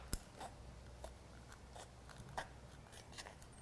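Scissors cut the flange off a Super Mario warp pipe model, giving a few faint, sharp snips spaced over a quiet background.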